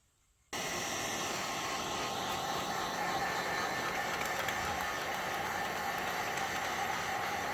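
A heat gun switches on after a brief silence and blows over a freeform resin bowl, a steady, close whooshing hum with a faint whine that holds evenly to the end.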